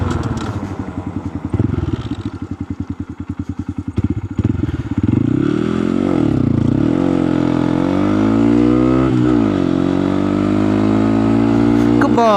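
Small 125cc Honda Grom motorcycle of about 8 horsepower on knobby tires revving loudly up close, a choppy idle giving way to rising and falling throttle blips and a sustained high rev.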